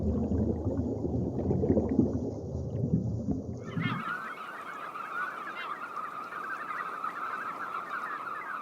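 A large flock of knot calls over a Norwegian fjord, a dense, continuous chatter of high bird voices that takes over midway after a low rumbling start, steady and fairly loud throughout.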